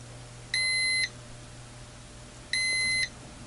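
A UNI-T UT61E+ multimeter gives two short, identical high electronic beeps during an over-voltage condition, evenly spaced about two seconds apart and clear over a quiet background.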